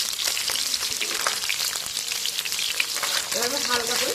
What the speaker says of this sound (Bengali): এবার আমি হালকা করে ভেজে তুলে নেব